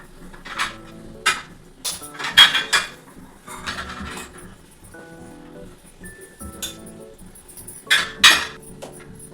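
Metal idli plates clink and clatter in a home kitchen as each plate cavity is oiled, with irregular bright taps and scrapes in a few clustered bursts, fairly close, with no talking.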